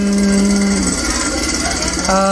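A Quick Kasuari cultivator tills soil to make melon beds, its engine giving a loud, steady mechanical roar with shifting tones for a couple of seconds and a voice talking over it.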